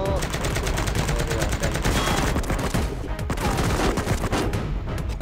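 Rapid machine-gun bursts ring out in the CoverFire shooting game, dense and loud, with a fast rattling rhythm and overlapping reports running throughout.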